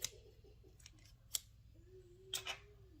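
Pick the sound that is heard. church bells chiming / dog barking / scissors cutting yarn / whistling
scissors cutting yarn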